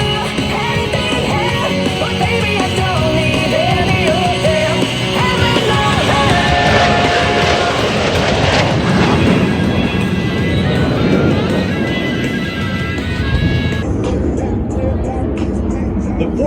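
Blue Angels jets performing the Double Farvel maneuver at the Kaneohe Bay air show, a loud sustained jet roar that swells and sweeps past, with crowd noise and a commentator's voice underneath, fading sharply near the end.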